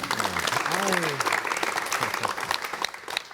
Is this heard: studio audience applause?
yes